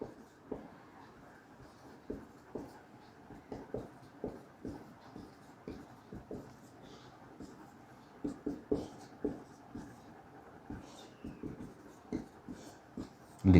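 A maths formula for the area of a triangle being written out, soft rhythmic strokes and taps of a pen or chalk, close and quiet, in an irregular steady series.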